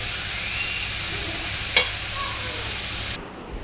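Leafy greens hit a hot pan of oil for a home-cooked lunch. A steady, fairly loud sizzle runs throughout, with one sharp clatter near the middle, and the frying noise drops off abruptly toward the end. Nobody speaks.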